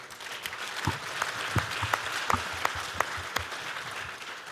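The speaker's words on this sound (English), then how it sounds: "Now I would like all of you to give a big applause to the fantastic panelists right here." Audience applause for the panelists at a digital power forum, a moderate, steady patter of many hands clapping with a few sharper individual claps standing out, with no voices.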